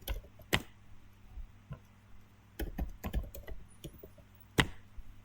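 Scattered keystrokes on a computer keyboard as the ipconfig command is typed into a Windows command prompt, a few sharp clicks then a quick cluster and one last firm tap, close and fairly quiet.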